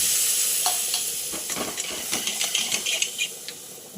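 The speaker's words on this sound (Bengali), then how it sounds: "ভাজা হয়ে গেছে আর বেশি ভাজাও যাবে না কারণ সর্ষে না যদি বেশি ভাজা হয়" Mustard paste fries in a pan with a steady, close sizzle and hiss, broken by scattered crackles and scraping stir strokes, and no voices over it.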